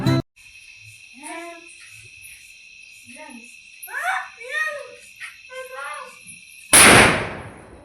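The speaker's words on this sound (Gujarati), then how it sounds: "સુતરી બોમ્બ ફોડવા જઈએ છીએ." Crickets chirp steadily at night while children talk, then a single loud sutli bomb firecracker blast bursts close by near the end and fades.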